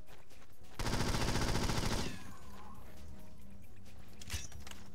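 Enemy gunfire in James Bond 007 NightFire on PC, a rapid automatic burst of about a second, loud and close, followed by quieter scattered game sounds and a faint later shot.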